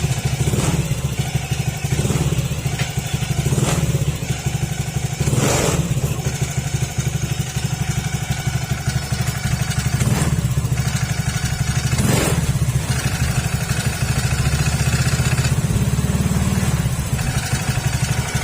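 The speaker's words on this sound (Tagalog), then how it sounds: "So pagka once na ganyan yung tunog ng motor niyo mga sir," A motorcycle engine with a faulty water pump runs steadily and close by, with irregular knocking clatters cutting through the hum every couple of seconds.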